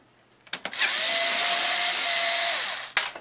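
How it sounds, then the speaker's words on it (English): A powered screwdriver backs screws out of a computer hard drive in an HP Windows 2000 desktop: a few clicks, then one steady, close motor whir lasting about two seconds before it stops with a click. "Go ahead and take these screws"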